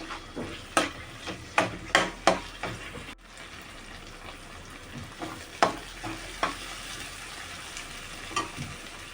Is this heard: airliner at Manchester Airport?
no